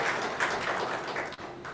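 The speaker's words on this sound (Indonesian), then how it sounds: "Tepuk tangan dulu buat Tuhan kita yang datang" A church congregation, mostly white worshippers at a large Sunday service, applauds together, a dense wash of clapping that holds steady with a brief dip near the end.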